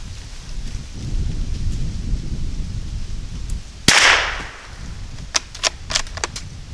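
A Ruger American rifle loaded with CCI ammunition fires a single loud, sharp shot while being sighted in outdoors. Several fainter cracks follow later against a steady background noise.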